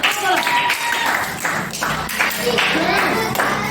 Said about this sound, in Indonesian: tepuk tangan untuk kelompok tengah